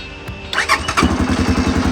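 A Kovi ADT motorcycle engine cranks and fires up close by, a brief whir of the starter giving way to a steady, rapid idle pulse that stays loud and present.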